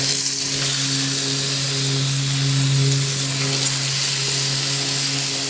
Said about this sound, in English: Fish going in the hot bacon grease.